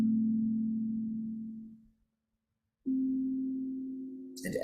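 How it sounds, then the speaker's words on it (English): A steady, low pure meditation tone hums evenly, fades out into a couple of seconds of silence, then returns at the same pitch, quiet and alone, with a faint brighter sound at the very end. "Allow yourself to perhaps see those tones in front of you."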